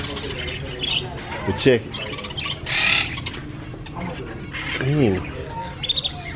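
Birds, including parrots, chirping and squawking in a pet store, with short sharp calls breaking out in bursts while someone talks nearby over indoor background noise.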